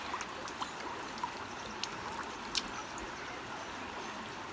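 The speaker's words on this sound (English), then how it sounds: "this is a running creek" A running mountain creek near lake Königssee flows steadily with constant broadband rushing and faint trickles, close and fairly quiet, with no voices.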